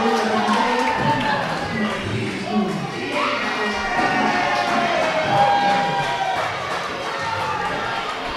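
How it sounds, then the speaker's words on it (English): A wrestling event crowd cheers and shouts continuously, excited voices including children rising and falling at moderate loudness throughout. "I didn't see what BD Smooth did to Mitchell Taylor to get that reaction from the crowd"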